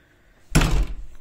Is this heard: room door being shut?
yes